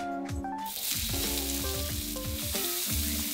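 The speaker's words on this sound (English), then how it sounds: "Now, to keep going on this, I need some oil in a hot pan. Now, add in some onion." Onion frying in oil in a hot pan while curry puff filling is made, a loud steady sizzle with broad hiss and overlapping tonal clatter, as of a spoon or pan, running throughout.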